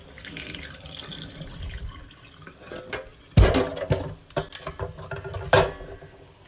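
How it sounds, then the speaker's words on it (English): Water is poured off clams in a kitchen, starting with soft trickling and drips before a louder splashing gush hits the sink, followed by a few more sloshes and drips, close up and with no speech. "We're just gonna drain it. And this is gonna remove all that stuff that was inside of them."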